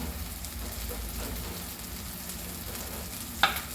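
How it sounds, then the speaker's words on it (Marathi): Ground onion-garlic masala paste sizzles and fries steadily in a pan for Maharashtrian-style spiced eggplant, a close, continuous crackle with a brief utensil clink near the end. "दही आपलं वाटण छान परतून झालेलं आहे आता आपण त्याच्यामध्ये मसाले घालणार आहोत"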